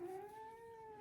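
An old cat yowls at a kitten in one sustained, drawn-out wavering cry, fairly faint and steady throughout with no talking.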